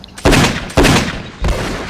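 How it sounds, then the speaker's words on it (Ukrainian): Three sharp, loud gunshot bursts ring out in quick succession, each a booming crack with a short decaying tail, close and unaccompanied by talk. "Через декілька секунд за дверима пролунала серія пострілів."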